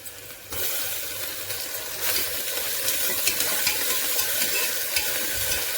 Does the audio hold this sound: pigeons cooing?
no